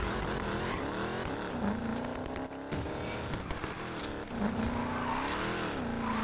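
A Chevy Camaro SS in the racing game Need for Speed Payback revs hard as it drives, its engine pitch rising and falling through gear changes, with brief tire squeals and a dip around the middle.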